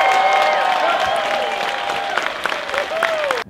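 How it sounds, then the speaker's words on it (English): Crowd at a car event raffle cheering and applauding, a dense continuous wash of clapping with whoops and shouts throughout, loud and close, ending abruptly. "So I really need y'all to give your loudest cheer of the night for everybody standing up here."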